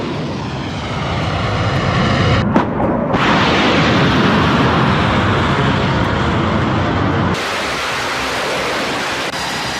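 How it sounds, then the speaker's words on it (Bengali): Tomahawk missiles fired in succession from a warship toward Iran, heard as a loud, sustained roaring rocket-motor blast that holds steady with a brief dip partway, then drops to a lower rumble near the end. "ইরানকে লক্ষ্য করে যুদ্ধ জাহাজ থেকে পরপর টোমাহক মিসাইল ছুড়ল আমেরিকা।"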